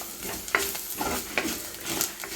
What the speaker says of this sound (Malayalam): അത് നന്നായിട്ടൊന്ന് ഇളക്കി കൊടുക്കാം.